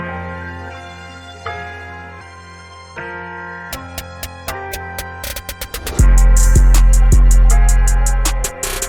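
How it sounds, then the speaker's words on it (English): In an FL Studio beat intro, a programmed snare roll begins as spaced hits and speeds into a rapid burst, layered over sustained synth chords and rising riser sweeps, then a loud bass-heavy drop lands. "So I just went in and drew this quick little snare roll here."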